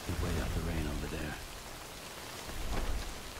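Rain in the video game Death Stranding, a dense steady patter with low rumbling, fairly close, and a voice briefly over it at the start.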